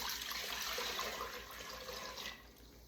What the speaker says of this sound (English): So I'm gonna go ahead though and add 6 cups of water.